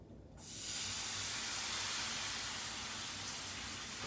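Milk poured into a hot pan of melted butter for a fondue sauce sets off a sudden loud sizzling hiss. The hiss swells within half a second and then holds steady, close and strong, with no voices.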